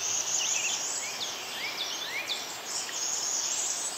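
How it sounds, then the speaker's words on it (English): A dawn chorus of many birds, including a cardinal and warblers, sings at once in a dense, continuous wash of overlapping high chirps and whistled slurs, with an insect-like trill underneath and no voices. "The sound of the dawn chorus can be overwhelming."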